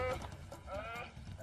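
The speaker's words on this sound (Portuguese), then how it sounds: "O barulho que o orictéropo fez foi tipo de um balido profundo" A wild aardvark gives a brief, deep, bleating call, faint and low against the background.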